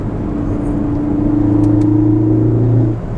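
A Ford Focus ST engine with a Ford Performance tune hums and rises in pitch as it accelerates, a steady droning rev heard from inside the cabin, piped in by the sound symposer.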